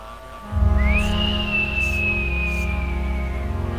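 A foal in a film whistles a single long, clear rising-then-level tone lasting a few seconds over a low musical background, calling horses back.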